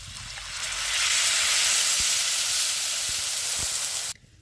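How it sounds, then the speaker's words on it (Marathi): Water poured into a pan of hot garlic, chili and turmeric paste gives a loud, steady sizzling hiss that swells quickly, holds for about four seconds, then cuts off abruptly. "थोडंसं पाणी घालायचं"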